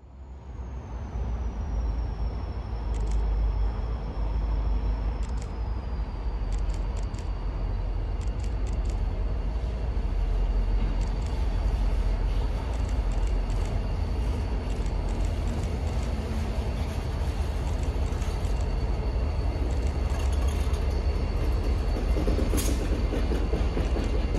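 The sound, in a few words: switcher locomotive moving at night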